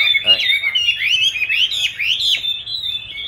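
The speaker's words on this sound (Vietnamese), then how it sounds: "chúng ta sẽ có thể bật cái file lên để chúng ta luyện hót" Recorded songbird song played back to train a bird at home, a loud, close run of rapid sweeping chirps and warbling trills that goes on without a break.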